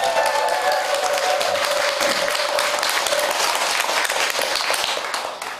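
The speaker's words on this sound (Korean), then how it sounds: "박수 한번 부탁드립니다" An audience at a Buddhist temple consecration ceremony at Daejangeomsa in Changwon, Korea, claps in a long, even, full round of applause that fades slightly at the end.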